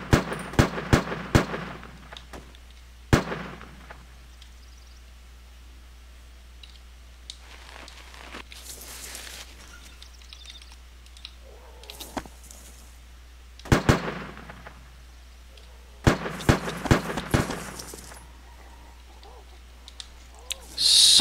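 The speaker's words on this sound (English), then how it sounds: "So many gunshots" Scattered gunshots from a military survival video game, sharp isolated cracks and short bursts spread across the stretch, some near and loud, others faint and distant, with quiet gaps in between.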